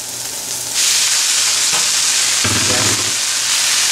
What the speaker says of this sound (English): Now I'm going to add our cooked noodles here.